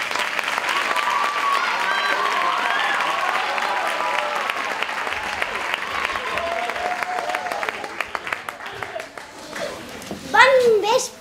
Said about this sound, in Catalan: un fort aplaudiment per als grillats.